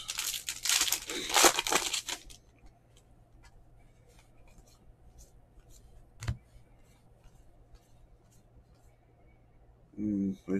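A foil wrapper on a 2021 Panini Contenders baseball hobby pack is torn open, giving a burst of loud crinkling for about two seconds, then quiet faint clicks and a brief rustle near the end.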